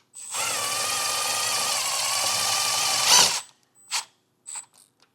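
Cordless drill driving a self-tapping screw into solid car body metal on a 2020 Lexus, a loud steady whir lasting about three seconds, then a few short bursts as the screw is snugged down.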